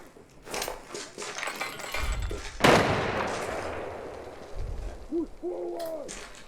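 Gunfire in the game Arena Breakout Infinite: a sharp, loud gunshot crack, then a long rumbling echo and a few more distant thuds. Chirping, warbling tones appear near the end.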